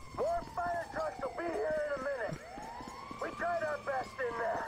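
A synthetic police siren in Grand Theft Auto V wails and sweeps upward amid clattering, hoof-like game sound effects, all fairly busy and continuous.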